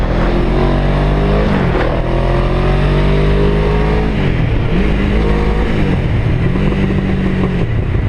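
A motorcycle engine roars loudly up close, climbing in pitch through several gear changes with short dips between as it accelerates hard.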